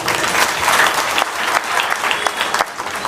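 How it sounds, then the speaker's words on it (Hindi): Loud, steady applause from an audience at a Hindi stage gathering fills the whole stretch, a dense wash of clapping that carries on without a break and with no voices rising above it. "आपके लिए जोरदार तालियां"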